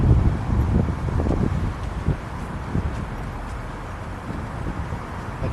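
Gusty wind buffeting the microphone on a breezy day in Dublin, a steady low rumble with irregular thumps, loud and close, with faint background noise and no speech.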